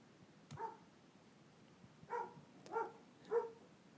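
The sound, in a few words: dogs barking outside the window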